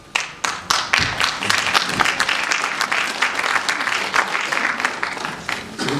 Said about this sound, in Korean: 지금부터 이렇게 박수를 계속 치시면